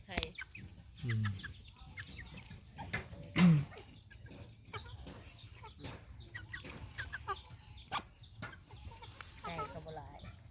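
Chickens cluck in short bursts around a rural Thai home, a couple of nearby louder calls among scattered fainter ones, with people talking intermittently in the background.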